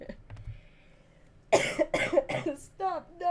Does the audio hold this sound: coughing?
yes